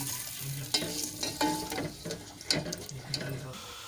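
Masala with ground coriander sizzles and fries in a hot pan over high flame, with clinks and scraping of a spoon stirring at irregular moments, fairly quiet and close.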